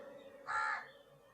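A single crow gives one short, harsh caw at moderate distance, standing out briefly against a quiet, faintly humming background.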